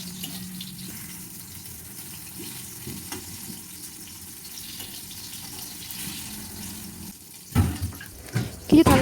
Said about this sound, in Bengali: বাসন পড়েছিল সেগুলো মাজলাম